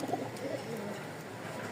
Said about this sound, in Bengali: দেখেন দুই কবুতরের ডাক দেখে মন ভরে যাচ্ছে